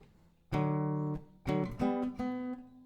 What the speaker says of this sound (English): And then we have this funny solo going on here.